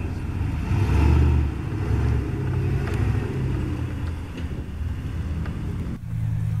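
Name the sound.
Jeep Comanche engine revving while climbing rocks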